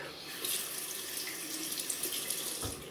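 A tap runs steadily for about three seconds as cold water rinses a double-edge razor during a wet shave, a close, continuous hiss of flowing water into a sink with no talking.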